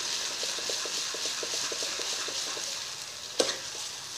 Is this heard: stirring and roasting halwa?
yes